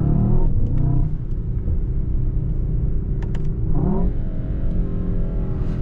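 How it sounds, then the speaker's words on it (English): A V8 sports car in Sport Plus mode accelerating and revving, a loud, close engine drone that rises in pitch with each gear, broken by brief shift pops and throttle blips. "You see that the car, the V8, is ready to rumble"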